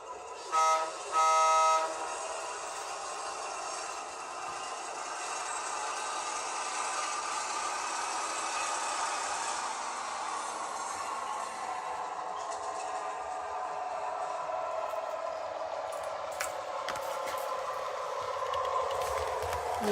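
A Rapido Fairbanks Morse H16-44 model train running at full throttle, a steady whirring motor drone with a brief horn toot near the start, continuous and moderately loud throughout.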